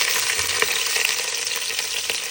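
Onion, green chili, curry leaves and ginger-garlic paste sautéing in a pan for chicken curry, giving a dense, continuous hissing sizzle with faint stirring scrapes now and then.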